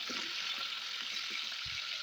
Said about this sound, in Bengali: তেলটা ভালোভাবে গরম করে নিয়েছি, ওর মধ্যে মাছগুলো দিয়ে দিচ্ছি একে একে, দিয়ে ভালোভাবে উল্টে পাল্টে লাল লাল করে ভেজে নেব।